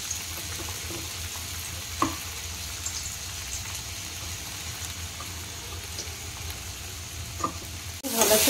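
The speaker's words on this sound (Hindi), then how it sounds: "भल से भाजवा" Ginger, garlic and green chilli fry in a pan, giving a soft, steady sizzle with occasional stirring knocks and a louder clatter near the end.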